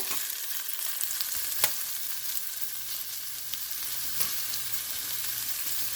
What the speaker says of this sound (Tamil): வெங்காயத்தை நல்லா பொன்னுரமாக எடுப்போம் பெரிய வெங்காயத்தை